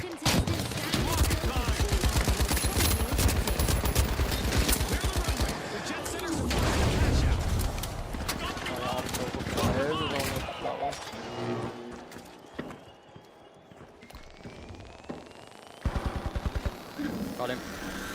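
Rapid gunfire bursts in a video game, loud and clattering in repeated volleys through the first half and trailing off into scattered shots, under frequent talk from a player.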